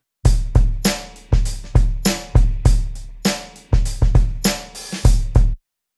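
An R&B drum loop from a Logic Pro drummer track plays alone with punchy kicks, snares and hi-hats in a steady repeating pattern, loud and dry, ending abruptly.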